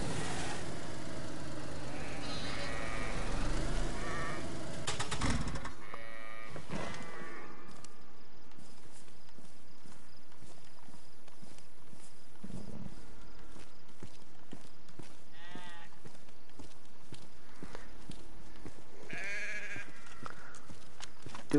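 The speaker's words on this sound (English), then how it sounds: "Oh, there's sheep." Sheep bleat in the DayZ video game as farm-animal calls with hoof-like clip-clop, at a moderate level after an opening stretch of louder game noise, with only faint speech around.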